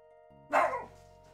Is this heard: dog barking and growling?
yes